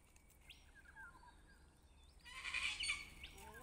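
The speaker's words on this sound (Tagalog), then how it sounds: "May ibon." Bird calls in a botanical garden in Queensland, Australia: several short chirps and squawks near and fairly clear over quiet outdoor air, ending in a louder harsher burst of calling.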